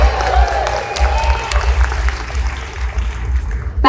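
Audience applause at a vegan festival talk, a steady wash of clapping from a crowd throughout, loud and close, with a bit of background cheering.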